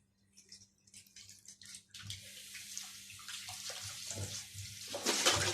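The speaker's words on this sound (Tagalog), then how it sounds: "Ayan, hugasan ko ulit." Dishes being washed at a kitchen sink with the tap running: a steady wash of water with handling knocks and a louder gush near the end, no talk.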